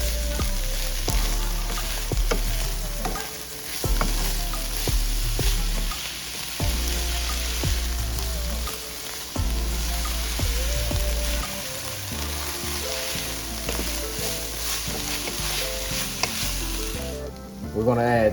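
Lasagna meat sauce with brown sugar and salt sizzles in a pan as it is stirred, with repeated scraping strokes and low bumps over a steady crackling fry for a long stretch, no voices.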